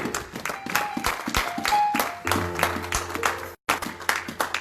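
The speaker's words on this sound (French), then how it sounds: "On acclame très fort pour la parole de Dieu." Church congregation clapping loudly, a dense run of hand claps with faint background tones, briefly cut off near the end before the applause resumes.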